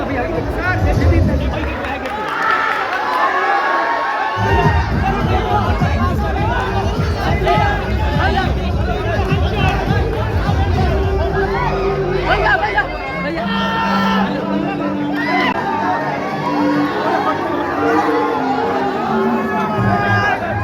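A big, packed crowd inside the Payal cinema hall in Motihari, house full for Rang De Basanti, fills the space with loud, continuous chatter and babble, with occasional shouts rising close by.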